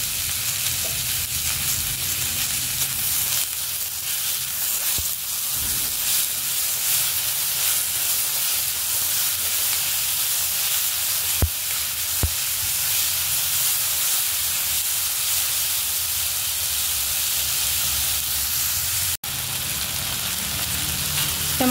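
Tomatoes cook in a hot pan with softened onions for matar paneer, giving a steady, even sizzle and hiss that runs unbroken, with a few faint clinks.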